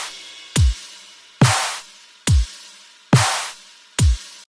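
Tearout dubstep drum hits in a drop: five heavy, loud strikes, each a deep low thump with a bright noisy snare, China cymbal and crash wash, with sweep samples filling the gaps, spaced about a second apart and with no voices.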